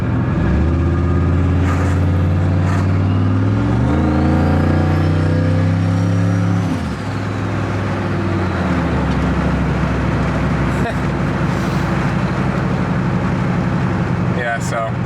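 A turbocharged Honda Accord with a stock muffler, its engine droning loud and steady from inside the moving car, rising and then dropping in pitch as it revs and shifts, with wind and road noise throughout.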